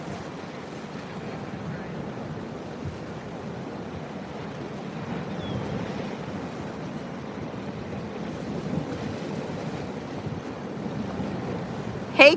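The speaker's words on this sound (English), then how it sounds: "These are some really great waves" Ocean surf at Jupiter Inlet beach: a steady broad wash of breaking waves with gusty wind buffeting the microphone, continuous and fairly loud.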